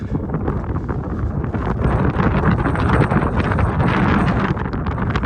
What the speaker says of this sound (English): I hope you can still hear me despite the wind